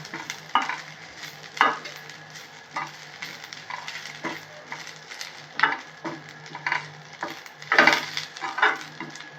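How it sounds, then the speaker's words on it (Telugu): Moringa leaves frying in hot oil in a pan, a steady close sizzle broken by repeated scraping stirs at an irregular rhythm, with no voices. "ఇది కూడా ఆయిల్లో బాగా ఫ్రై చేసుకోవాలి."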